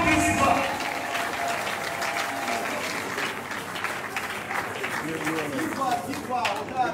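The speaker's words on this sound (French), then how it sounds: "l'évangéliste Gustave Lesi, à qui nous demandons de s'élever sous vos applaudissements" Applause from a congregation at a memorial gathering for a pastor, steady clapping lasting several seconds under a continuing voice and crowd murmur.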